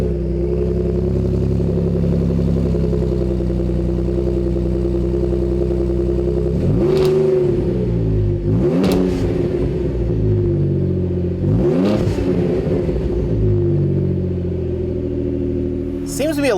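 Ford F-150 Raptor V6 with an aFe Rebel 3-inch stainless dual side-exit cat-back exhaust: a loud, deep idle rumble broken by three sharp revs that climb and fall back, close up.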